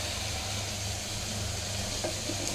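Pomfret fish sizzles steadily in hot oil in a pan, a dense, even frying hiss that holds for the whole stretch, with a faint stir or clink near the end.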